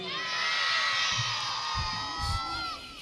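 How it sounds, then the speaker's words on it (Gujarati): Audience at a cultural forum event cheering and shouting, with children's voices rising over the crowd in lively bursts that swell and fade. "સાહેબ બાવળિયા સાહેબ શ્રી જોરદાર તાળીઓથી આપણે વધાવશું"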